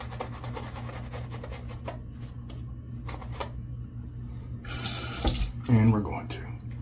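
Water runs from a tap into a sink while handmade soap is being made, a steady low wash that swells louder near the end, with soft handling noises around it.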